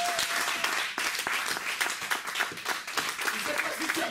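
A church congregation claps and applauds together in praise, a dense, steady wash of hands close by, running continuously with voices mixed underneath.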